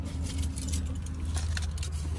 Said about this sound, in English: see real quick where my keys